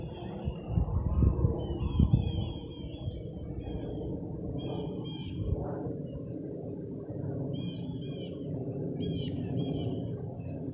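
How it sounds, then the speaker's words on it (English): Birds sing in a garden, with several bright chirps and short calls over a steady low rumble, moderately distant and continuing throughout. "All the birds."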